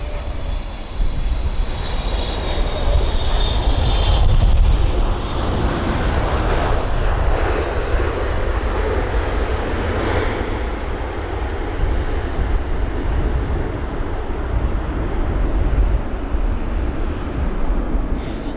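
An Air Canada jet lands in gusty wind at London Heathrow. Its engines give a loud, continuous roar with a thin high whine early on, steady and close for the whole stretch.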